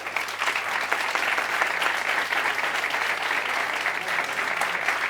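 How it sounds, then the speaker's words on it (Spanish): Audience applauding two guest speakers at the close of a cloud security talk, a dense, even round of clapping that fills the room and carries on without pause. "Un aplauso, por favor."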